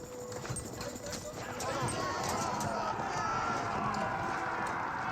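Massed cavalry hooves, knights, riders and lancers, in the strategy game Age of Empires 4, a dense galloping clatter of clip-clop with occasional neighs, steady and moderately loud.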